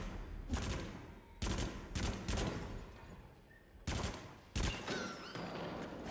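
Shotgun blasts and gunfire ring out in the VR shooter Until Dawn: Rush of Blood, as a series of loud, sharp bursts spaced irregularly with short gaps between them.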